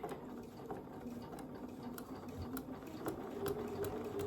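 A sewing machine stitches binding onto a quilt, a steady low mechanical whir with a faint rhythmic needle patter running continuously at moderate level.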